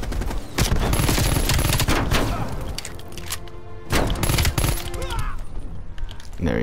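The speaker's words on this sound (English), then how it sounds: "This gun seems like an SMG just because of the way I'm holding it." SMG fire in the video game Black Ops: Cold War comes in loud rapid bursts of automatic shots, with brief pauses and thumping impacts between them, all close and dominant.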